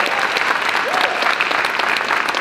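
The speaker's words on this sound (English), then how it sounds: "let's give Dr. Ron Williams a round of applause" Dense, steady applause from a conference audience for Dr. Ron Williams at the EICAC 2024 opening at Coppin State University, loud and sustained throughout without a break.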